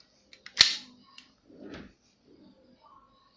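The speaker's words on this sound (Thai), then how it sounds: "เสียงขึ้นสไลด์เขาเพราะมาก" Metal slide of a Bell Glock 17 gas blowback airsoft pistol racked once, a sharp loud snap followed by softer clicks and a brief sliding rattle, close and alone.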